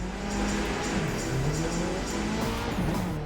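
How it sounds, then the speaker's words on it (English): Racing cars in The Crew 2, a Mitsubishi Lancer Evo overtaking a Nissan Skyline: steady close engine drone with rising and falling revs and tyre noise, continuous and unbroken, with no voices. "that's an Evo overtaking a Skyline"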